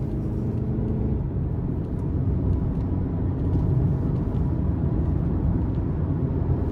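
Engine of a 2023 Hyundai Santa Cruz SEL pickup revving high while driving, a steady, loud low rumble with a slight rise midway, heard from the cabin with no talking.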